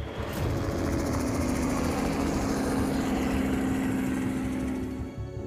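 A helicopter flies low over open African grassland in front of a rhino, its engine and rotor a loud, steady droning hum with a rhythmic chop that holds for several seconds before easing off.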